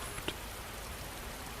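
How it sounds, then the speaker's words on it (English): Rain patters steadily on a window, a soft even hiss with one or two faint ticks of drops near the start. "The rain has blessed the window one last time."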